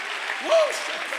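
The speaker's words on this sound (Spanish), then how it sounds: "Come on, clap your hands unto God." A church congregation claps together during a worship service, a steady broadband wash of many hands at moderate volume, with a voice rising briefly over it.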